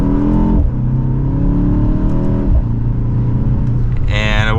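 A 2024 BMW X2 M35i accelerates from inside the cabin, its engine note climbing, dropping at shifts and climbing again in a loud, steady pull, with a brief higher whine at the end.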